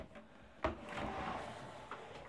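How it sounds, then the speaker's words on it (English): A drawer in an MSC Euribia balcony cabin slides open or shut with a single soft wooden thump and a brief scrape, fairly faint against quiet room tone. "And then there's drawers."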